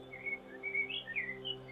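A small bird in a forest chirps in short, bright tweets, soft and spaced out over a steady low drone.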